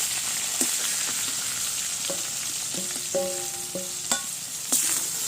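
Oil sizzles steadily as young jackfruit and potato fry in a pan, with occasional utensil clinks and a few short tonal beeps over the hiss.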